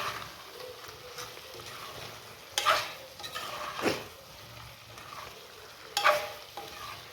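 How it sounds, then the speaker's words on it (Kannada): Soy sauce poured into chicken gravy frying in a pan, with steady sizzling and a few louder bursts of stirring and scraping, close and alone without talk. "ಅದಕ್ಕಿಂತ ಮುಂಚೆ ನಾನು ಸೋಯಾ ಸಾಸ್ ಹಾಕ್ತಾಯಿದ್ದೀನಿ."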